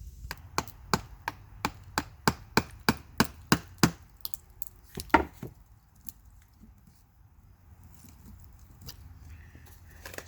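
Sharp metallic taps and clicks from a thin screwdriver prying apart aluminum pieces of a broken TTC 820, a rapid steady run of about a dozen close strikes, then a few scattered scrapes and quieter fumbling.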